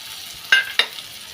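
Ginger garlic paste being stirred into a frying dry fish and brinjal curry, giving two quick scraping stirs with a light sizzle underneath, close and fairly quiet.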